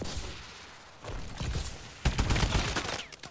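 S12 shotgun fire in Call of Duty Advanced Warfare comes in a few sharp, separate blasts with mechanical clatter between them, growing louder and denser toward the end.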